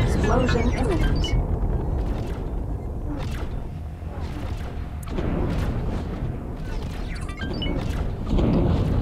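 A station blows up in the space game X4: Foundations with booming, rumbling blasts and crashing bursts, loud and dense over nine seconds, with waves of heavy low impacts layered under a voice.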